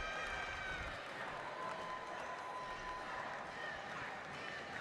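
Crowd noise swells and holds steady at a national dodgeball championship, a continuous wash of cheering and applause from the stands with a commentator's voice running over it.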